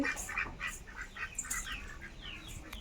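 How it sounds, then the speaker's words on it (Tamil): Several wild ducks quack nearby on a cattle farm in short, bright bursts, calls overlapping in an uneven rhythm with no talking. "வாத்து இருக்கு பாருங்க வாத்து நல்லா காட்டு வாத்து இருக்கு பாருங்க"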